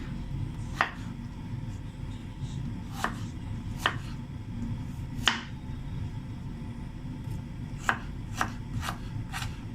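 Sparse knife chops through ginger on a cutting board, single sharp taps spaced irregularly, fairly quiet against a low background hum.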